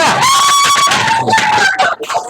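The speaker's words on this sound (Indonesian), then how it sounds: "Tepuk tangan buat kelompok 3." A school class cheers and claps for a student group, with excited shouts and high whoops from the children rising over a busy burst of clapping, close and loud.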